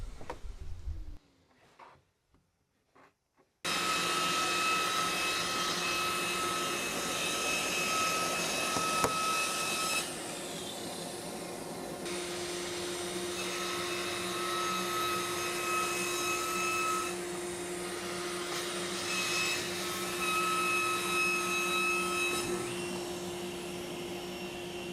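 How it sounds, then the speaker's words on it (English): An orbital sander fitted with 80 grit paper runs steadily across the back of a metal sheet for a countertop in an Airstream Argosy renovation, a loud, continuous whirring drone with a brief pause and small shifts in pitch. "I also took the orbital out and put 80 grit on and sanded the whole back side of that metal"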